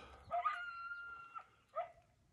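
A coyote lets out a few barks and yelps with a drawn-out howling cry between them, carrying clearly across a quiet, open space.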